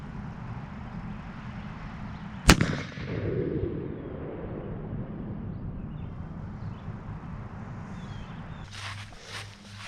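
A LeMat revolver fires buckshot at 20 yards, giving a single sharp, loud report that rings off briefly, with quiet outdoor background before and after.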